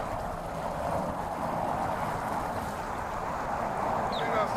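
A bass boat speeds over waves with a steady close roar of engine and rushing water mixed with wind buffeting on the microphone throughout.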